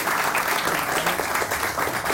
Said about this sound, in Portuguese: Por favor, uma salva de palmas para Ana Moser.